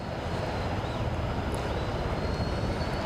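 An easyJet airliner lining up on the runway at Aberdeen airport, a steady broad jet engine roar heard from a distance, continuous and even throughout.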